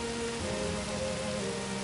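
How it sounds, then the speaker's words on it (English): Light drizzle falls steadily in an Agatha Christie mystery game set on a storm-threatened island, a soft continuous patter with a faint low hum of ambient game music beneath it, no voices. "This drizzle's about to turn ugly."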